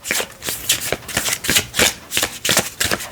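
A brand-new deck of playing cards with decorated edges is riffled in a gentle shuffle, giving rapid papery fluttering bursts in a steady rhythm close to the listener, with no talking.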